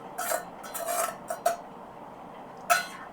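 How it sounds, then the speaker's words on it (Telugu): Ground bread powder is stirred in a pan over medium flame, with a few light scrapes and metallic clinks of a spoon against the pan separated by quiet gaps, close and moderate in volume, with no speech. "ఇప్పుడు ముందుగా మనం గ్రైండ్ చేసుకొని పెట్టిన బ్రెడ్ పౌడర్ని బాగా వేయించుకుందాం."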